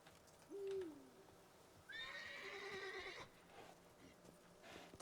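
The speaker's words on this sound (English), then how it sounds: "Oh, it's a wild horse." A wild horse in The Witcher 3 gives a short snort, then a longer, clear whinny that wavers for over a second, set against quiet game ambience with no talking.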